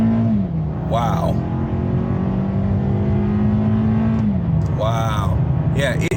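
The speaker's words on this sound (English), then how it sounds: "it better be a 4-cylinder, because it wound up. It really tried." A Toyota Camry's 4-cylinder engine winds up steadily during a 0 to 60 run on an open road, a sustained climbing drone with a shift partway through, while people talk over it inside the car.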